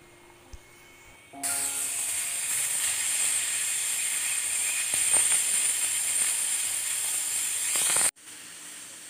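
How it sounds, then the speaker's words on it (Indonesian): A pressure cooker boiling chicken hisses loudly and continuously as steam escapes, starting abruptly after a quiet moment and cutting off near the end. "aku merebus pakai panci presto selama 30 menit"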